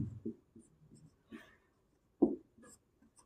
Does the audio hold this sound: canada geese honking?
no